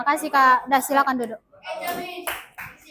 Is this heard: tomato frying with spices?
no